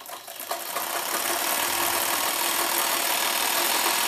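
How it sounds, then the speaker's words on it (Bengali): A sewing machine runs steadily, joining the pieces of a kamar belt with a flower design and stitching all the way around them. It is a loud, continuous mechanical whir with a rapid rattle and no voices. "তো আমি জয়েনিং করে নিচ্ছি, পুরো চারিপাশে আমি সেলাই করে নেব এরকমভাবে।"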